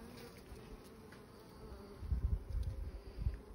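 Honeybees hum steadily in an open hive while the frames are searched, with a soft, close buzz that swells louder toward the end.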